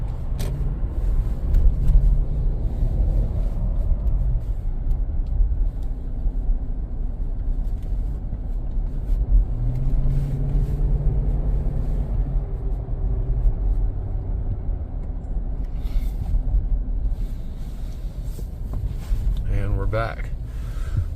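A 200 Series LX engine hums at a low, steady rumble from inside the cabin while driving, with road noise and occasional speech over it.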